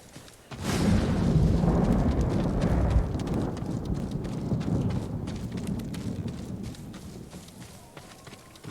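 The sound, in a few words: thunder in the video game Ghost of Tsushima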